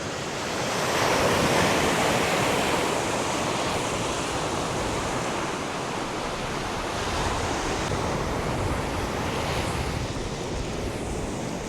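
Sea waves break steadily on the Baltic coast near Jūrkalne, Užava and Ventspils, a loud continuous wash of surf with wind noise buffeting the microphone throughout.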